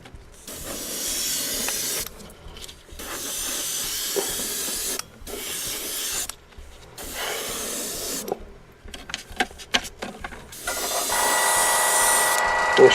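An aerosol can of plastic primer sprays over 3D printed models in several bursts, each a loud close hiss lasting one to two seconds, separated by short pauses with faint handling noises.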